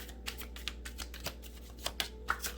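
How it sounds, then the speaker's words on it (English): A deck of tarot cards is shuffled by hand, producing a quick irregular series of crisp papery riffles and flicks, close and fairly quiet, with no talking. "let's shuffle this bad boy and see what we have"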